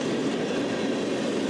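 Norfolk Southern ballast train rolling past close by on railroad tracks, a steady loud rumble and rattle of wagons with no voices.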